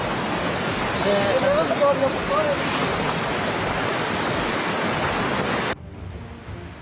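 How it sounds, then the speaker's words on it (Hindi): Muddy floodwater rushing down from a mountain after a cloudburst, a steady loud broadband roar of flowing water that cuts off abruptly near the end, with a brief voice over it. "पहाड़ से होकर अब भी मटमैला पानी अपना रास्ता बनाते हुए आगे की तरफ बढ़ रहा है"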